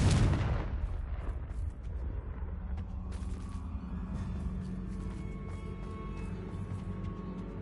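The Confringo blasting spell in Hogwarts Legacy opens with a loud explosive burst that decays into a rumbling, creaking mechanical tail, with no speech.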